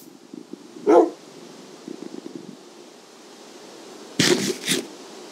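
A dog barks in a video game, a single bark near the start followed by a quick pair of barks later, loud and close over a low background hum.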